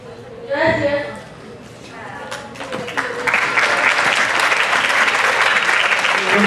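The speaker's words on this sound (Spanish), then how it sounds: "Un fuerte los aplausos para el primero por su tema los injertos." A crowd bursts into applause after a student presentation on fruit grafting; after a brief voice at the start, dense clapping builds and holds loud and steady to the end.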